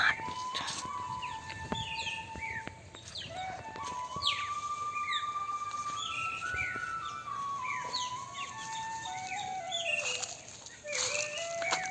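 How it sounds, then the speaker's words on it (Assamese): Birds call and chirp in a village lemon orchard, several clear whistled notes and sliding tweets overlapping near the listener across the whole stretch, with no voices. "চৰাই মাত"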